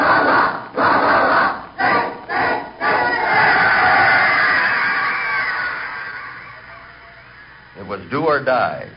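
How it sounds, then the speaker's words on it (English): Football game crowd roars in bursts, loud shouting waves that rise and break off, then a long swelling roar fading down, with a voice breaking in at the end. "The crowd roared."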